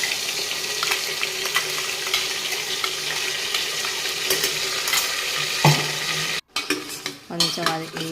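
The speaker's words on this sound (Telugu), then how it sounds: "టమాటా ఉల్లిగడ్డ పేస్ట్ వేసుకోవాలి" Tomato and onion paste fries with cumin in oil inside a pressure cooker, a steady close sizzle with stirring scrapes, interrupted near the end by a brief gap and clattering handling sounds.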